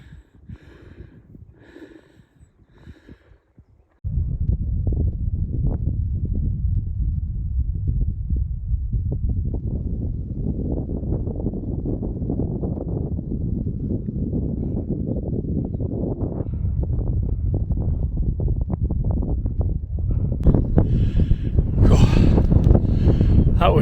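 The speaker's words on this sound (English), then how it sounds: "Hopefully you can hear this because it's a bit windy." Strong wind buffets the microphone on a hilltop walk across the Downs in spring sunshine, a loud continuous low roar that gusts harder near the end after a brief quieter stretch with a voice at the start.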